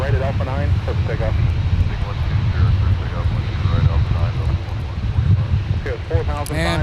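Delta airliner taking off from runway 12 right at Minneapolis–Saint Paul airport: a loud, steady engine roar with wind rush, heard under intermittent talk.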